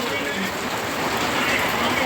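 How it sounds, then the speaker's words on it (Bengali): Heavy rain pours down in a steady, loud, unbroken hiss, close and dense throughout. "সারা রাত মুসলধারায় বৃষ্টি হচ্ছে"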